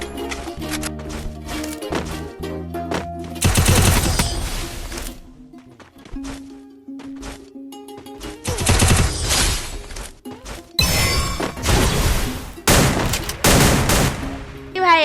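Rapid bursts of automatic gunfire from a PC shooting game, including a UMP submachine gun, come in several loud volleys separated by short quieter gaps.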